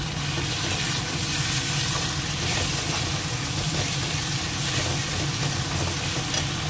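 Onions sizzle and fry steadily in hot oil with chilli, ginger paste and garlic paste added, a continuous close crackling hiss with occasional stirring and no talk.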